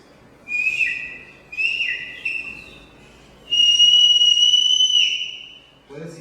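Shrill whistle from a bottle-cap resonator blown in three bursts, the first two wavering and short, the last a longer steady tone, loud and close.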